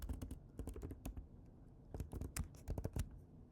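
Fingers tap out a fake password on a computer keyboard, a quiet close-up burst of quick clicky keystrokes in two uneven runs with a short pause between, with no talking.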